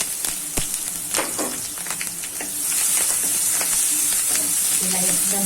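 Small onions hit a hot pan with a stir and settle into a steady, loud frying sizzle and hiss, with a few scrapes early on, while cooking a leftover rotli snack.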